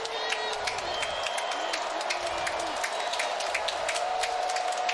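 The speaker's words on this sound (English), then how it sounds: "Bowling Green crowd, student section trying to get into this one on 2nd and 6." Student section of a Bowling Green college football crowd at a 2024 home game against Old Dominion, a steady loud stadium roar with cheering and whoops throughout, no clear talk over it.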